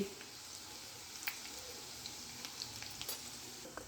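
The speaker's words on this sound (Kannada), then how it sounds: "ರುಚಿಗೆ ತಕ್ಕಷ್ಟು ಉಪ್ಪು ಹಾಕಿ ಚಲೋ ಫ್ರೈ ಮಾಡ್ಕೋಬೇಕು" Onion frying with garlic, turmeric and chili powder in a pan for hotel-style dal fry, a soft, steady sizzle with a few light crackles and stirring scrapes, close but quiet.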